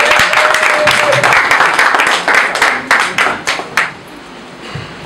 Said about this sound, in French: s'avancer à la télé avec les applaudissements